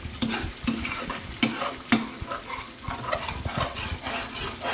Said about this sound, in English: stir all that in, combine it into the sauce, get everything nicely mixed together